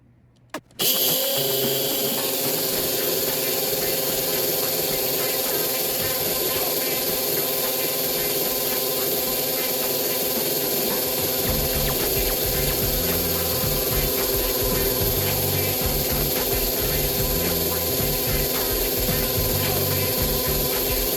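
A hopped-up Tyco 440x2 slot car runs on a dyno, its motor whining loud and constant after a sharp start, the pitch holding steady with a faint rising drone throughout.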